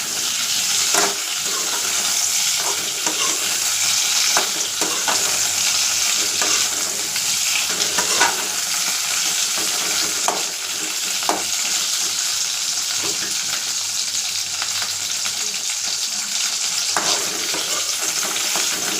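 Ingredients are lightly sautéed in a hot pan, giving a dense, even sizzle with frequent scraping stirs and soft clatters of a spoon against the pan, with no voices.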